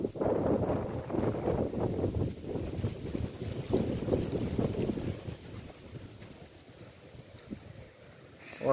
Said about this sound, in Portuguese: Tá vindo já o vento.